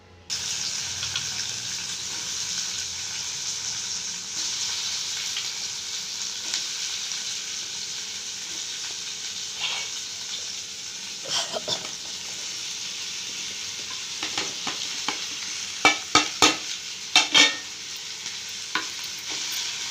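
Ivy gourd pieces fry in oil in a pan, a steady, even sizzle held for a long stretch, later broken by a cluster of sharp scraping stirs and clatters near the end.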